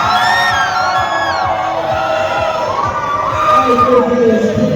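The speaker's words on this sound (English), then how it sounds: "Now cheer if you think Shake and Rake wins." A loud audience at a robot fighting match made with modified robot vacuums cheers, whoops and yells continuously for the winner, a dense close crowd roar with shrill individual shouts rising above it.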